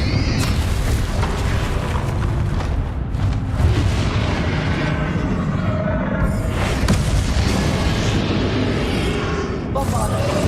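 Blasting spells burst one after another in Hogwarts Legacy combat, heavy booming explosions layered over constant battle noise, with a voice calling out beneath the din.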